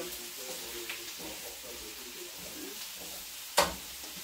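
Carrots frying in a pan with pork and vegetables, a steady soft sizzle with stirring scrapes and a sharp clack near the end.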